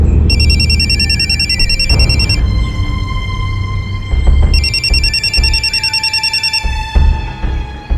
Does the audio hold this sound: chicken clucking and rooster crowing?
no